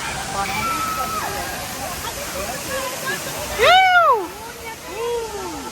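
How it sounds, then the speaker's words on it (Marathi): Water at the Barki waterfall pours in a steady, continuous rush. Voices and tonal calls rise briefly over it near the end. "पब्लिक फायनली आता पोहोचलोय धबधब्यापाशी"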